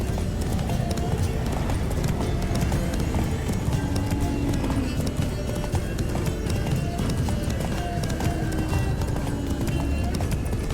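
Hooves of a galloping horse in The Witcher 3: Blood and Wine, a continuous rapid clip-clop under a dense game soundscape with a brief whinny, loud and unbroken throughout.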